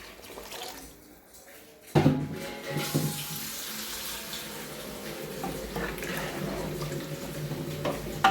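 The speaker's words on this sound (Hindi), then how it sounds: "अब हम डाल देते हैं इसमें थोड़ा सा पानी।" Water poured into a cooking pot of partly cooked potatoes in an outdoor kitchen, a steady splashing rush that starts abruptly after a quiet moment and carries on near and fairly loud.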